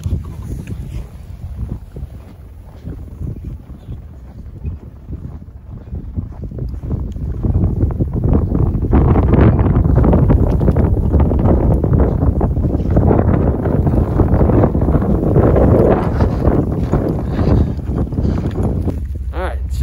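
Loud wind of a heavy Oklahoma snowstorm at night roars and rumbles against the microphone, building in strength and staying harsh and continuous, with muffled voices at times.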